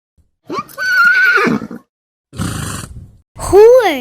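A horse neighs loudly and close by in a shrill whinny, gives a rough snorting burst after a short pause, then whinnies again with a rising, quavering cry.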